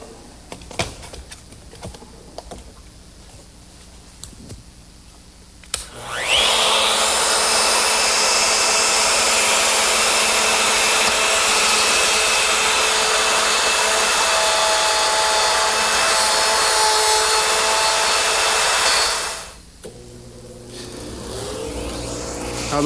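A handheld router with a 1/2-inch straight cutter and guide collar plunges into a wood mortise for a butcher block rail, a loud steady whine starting after six seconds and holding for about thirteen seconds before winding down.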